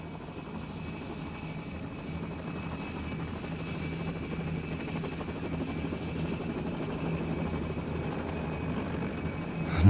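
A constant droning autogyro rotor and engine hum in flight holds steady for about ten seconds, loud and unbroken, with no voices.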